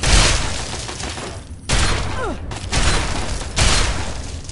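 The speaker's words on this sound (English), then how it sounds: "Combat shotgun's acting up." Combat shotgun blasts in Fallout 3, three or four heavy booming shots spaced about a second apart, each with a sharp attack and a ringing decay, plus a brief mechanical whine between shots.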